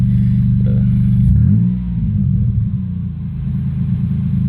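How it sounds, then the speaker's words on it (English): Truck engine with a Cherry Bomb Extreme muffler, a loud, close, deep growling rumble that rises briefly in a rev, then settles back into a steady low idle. "It's got a nice growl to it with the Cherry Bomb Extreme muffler."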